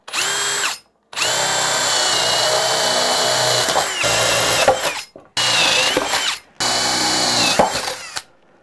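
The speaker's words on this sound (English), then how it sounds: "I'm going to pre-drill this just to get through" A power drill whirs loudly in several bursts, its pitch dipping as it pre-drills through a wooden ledger board, with short pauses between runs.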